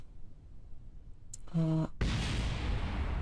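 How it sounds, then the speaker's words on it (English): Loud explosion in Kerbal Space Program during a slow landing, a sharp burst followed by a sustained roar. Brief tonal beeps come just before it, over low background sound. "don't worry about that explosion"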